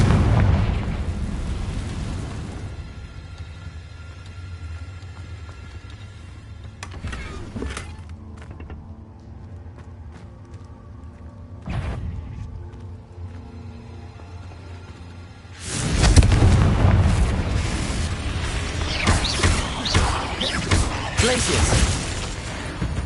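A Confringo blasting spell explodes in Hogwarts Legacy: low rumbling booms and sharp bursts come over a game soundscape, with a quieter stretch followed by a loud, sustained blast.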